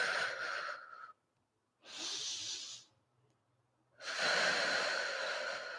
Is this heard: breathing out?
yes